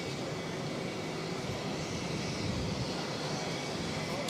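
Airplanes on the runway at Boston's airport, heard from close by as a continuous broad jet-engine roar that stays steady and loud with no voices over it.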